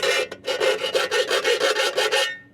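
Metal shards on an ammo case are filed with a chainsaw file, about ten quick rhythmic rasping strokes, close and fairly loud, with no talking.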